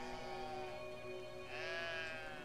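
A sheep in the video game Brothers: A Tale of Two Sons gives a long, wavering bleat, clear and fairly close, over a soft, steady game soundscape.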